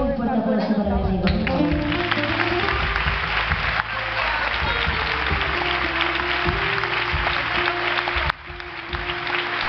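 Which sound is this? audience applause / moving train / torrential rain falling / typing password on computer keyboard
audience applause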